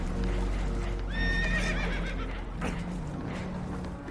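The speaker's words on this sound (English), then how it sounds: "Horses are spooked" Spooked horses in Red Dead Redemption 2 give a loud, close whinny with a falling pitch, over a steady rumble of hooves and background noise that runs throughout.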